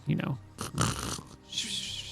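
A human voice imitates a sleeping tiger's snoring with two rough, throaty inhaled snores, then a softer breathy exhale, close and clear.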